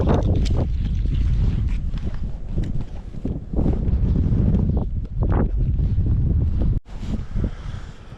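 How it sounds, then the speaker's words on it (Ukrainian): Strong wind buffets the microphone in loud, roaring gusts out on thin lake ice during winter fishing, with brief dips between blasts throughout. "вітер дує настільки жорстко"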